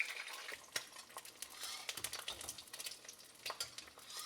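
An egg fries in hot avocado oil, crackling and popping in quick, irregular bursts, close and faint, with scattered sharp spits over a soft sizzle.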